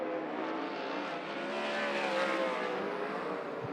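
A 410 sprint car on a qualifying lap holds a loud, continuous high-revving engine roar that rises and falls slightly in pitch as it passes around the track.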